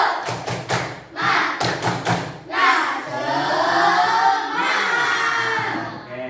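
A school class performs a rhythmic spirit clap, sharp group hand claps and thumps in quick patterned bursts at first, then breaking into loud children's shouting and cheering that carries on to the end.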